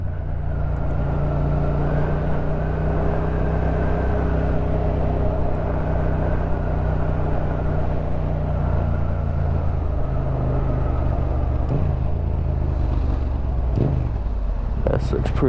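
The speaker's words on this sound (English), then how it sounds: "Oh, London traffic, don't you just love it?" Busy London traffic heard from a Yamaha MT-07 motorcycle with an Akrapovic exhaust, a continuous close engine rumble and road noise with someone talking over it.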